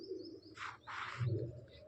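Soft, low coos from green-eyed pigeons repeat a few times, quiet and somewhat distant, with a couple of faint chirps above them.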